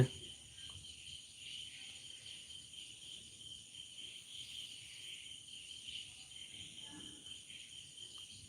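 Cicadas drone in a steady, high-pitched chorus in the background. The hum is faint and continuous, with no voices.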